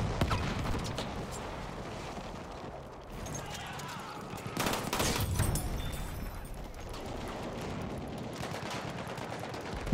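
Battlefield 1 World War I automatic pistol fired in rapid bursts, dense crackling shots layered with battle noise and a louder cluster midway through, continuing throughout the clip.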